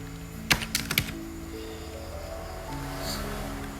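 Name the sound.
typing code on a computer keyboard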